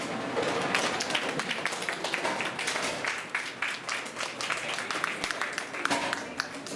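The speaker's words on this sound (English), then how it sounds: "Stand and give a round of applause to Dr. Ranvati George and all the students who are done a wonderful exhibition" An audience at an exhibition of wild vegetables and medicinal plants applauds the organiser and students, with a steady wash of many hands clapping at moderate distance and no clear speech.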